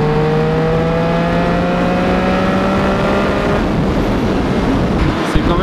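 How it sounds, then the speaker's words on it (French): A 2013 Triumph Street Triple 675R motorcycle fitted with an SC Project exhaust drones steadily at speed, its engine note holding a constant pitch before easing off. Wind rush underneath suggests highway riding, and no one speaks. "Avec un petit beau SC Project, ça chantonne."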